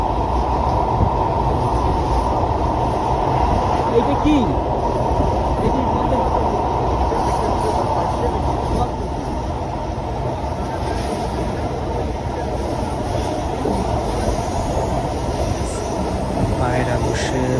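A Dhaka metro rail train runs with a steady, loud rolling drone and faint high rail whine throughout, while a person speaks briefly over the continuous noise.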